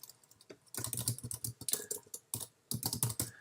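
Rapid bursts of computer keyboard typing, close and fairly quiet, with uneven clusters of keystrokes separated by short pauses while text is entered.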